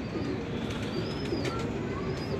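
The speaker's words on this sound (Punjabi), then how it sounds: "ਤੇ ਕਬੂਤਰ ਸਾਡਾ ਆਪਣਾ" Pigeons coo on Ustad Achha Butt's rooftop, soft repeated throaty calls over a steady low background hum.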